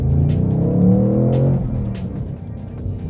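A 2021 Ford Mustang Mach 1 with its 5.0-liter V8 and manual gearbox drives on a track, its loud engine note rising and then easing off, heard close for a few seconds.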